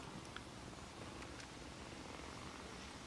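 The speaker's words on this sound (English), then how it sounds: "There's a lot of purring going on." Several kittens and their mother cat purring together in a plant room, a soft, steady low rumble that continues without a break, faint and close by.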